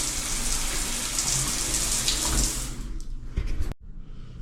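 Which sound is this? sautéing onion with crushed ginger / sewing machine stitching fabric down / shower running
shower running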